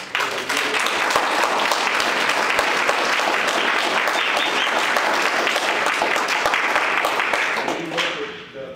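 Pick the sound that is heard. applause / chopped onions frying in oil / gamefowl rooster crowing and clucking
applause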